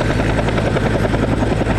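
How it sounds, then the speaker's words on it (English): Helicopter carrying a water bucket flies past during a forest fire at a ballpark in Altona, its loud steady rotor thrum and engine roar filling the air without a break, with no talking. "Just saw a helicopter drive by with a water bucket."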